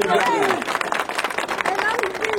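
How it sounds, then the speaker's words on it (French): Crowd at a street protest by the Guinean diaspora breaks into scattered clapping and cheers, dense and close, with voices shouting and talking over the applause throughout. "On applaudit. On applaudit."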